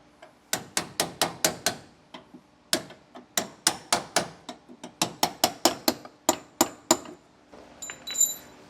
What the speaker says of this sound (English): give it a little love tap to get it out. And from there we can also use a punch to pop it the rest of the way